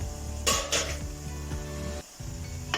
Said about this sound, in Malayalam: ഒന്ന് ഇളക്കി കൊടുക്കാം ഒന്ന് ഡ്രൈ ആവട്ടെ